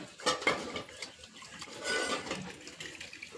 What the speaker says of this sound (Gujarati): જોઈ લો, અમારી મમ્મી વાસણ ઘસે છે.